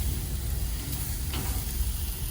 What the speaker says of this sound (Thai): มาย่างนอกบ้านนะคะ